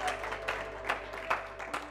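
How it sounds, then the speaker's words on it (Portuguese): A church congregation applauds, with scattered claps and crowd noise rising and falling in a few swells. "Você pode dar um aplauso ao Senhor por isso?"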